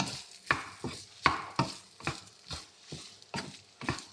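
Prawn tikka rice is stirred as it fries in a pan: a soft sizzle with about a dozen regular, close spoon scrapes and pushes, and no voices.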